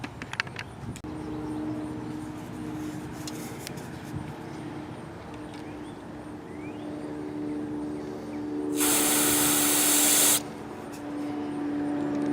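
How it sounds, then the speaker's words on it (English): Carburetor cleaner sprayed from an aerosol can into the small holes of a Briggs lawn mower carburetor; a quiet background hum and small clicks come first, then a loud, steady hiss of spray lasting under two seconds. "take some carburetor cleaner, spray it in each of these 3 holes here"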